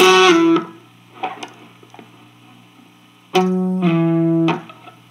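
An electric guitar plays two short octave phrases from a song with a sliding pitch drop, separated by a quiet gap with faint ticks, loud and close.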